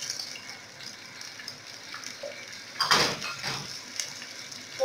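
Onions tipped into hot red palm oil in a pot, a sudden sharp sizzling burst over a low background hiss with faint clinks around it, close and without talk.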